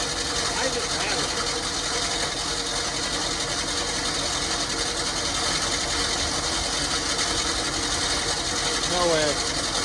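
Dodge M880 pickup engine running with a loose heat shield between engine and torque converter, giving a steady mechanical buzz and rattle throughout, close and fairly loud, with someone talking over it.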